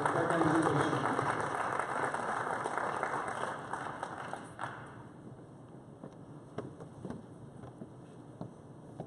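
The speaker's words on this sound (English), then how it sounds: "Let's give the students at Uniontown High School a round of applause for their demonstration." Audience applause for a CPR demonstration by high school students in a school assembly setting, a dense burst of clapping that starts loud and fades to a few scattered claps after several seconds.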